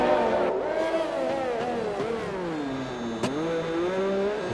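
A McLaren race car engine in a racing video game at Monaco, a steady whining drone whose pitch sweeps up and down through gear changes as the unstable car corners, with a brief sharp click near the end.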